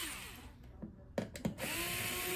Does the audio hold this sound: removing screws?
yes